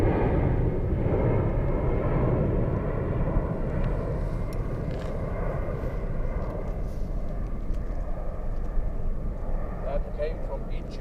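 An Edelweiss airliner on runway 34 at Zurich airport, a steady loud distant jet engine roar that holds throughout, with voices talking over it.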